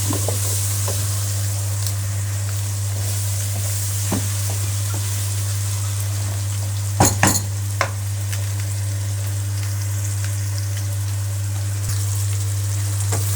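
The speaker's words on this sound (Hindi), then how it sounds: "ये लें जी, हमारे टमाटर फ्राई हो गए हैं, शैलो फ्राई कर लिए हैं।" Tomatoes shallow frying in spiced oil for a potato, egg and capsicum dish give off a steady, even sizzle with a low hum beneath and a brief clatter of utensils partway through.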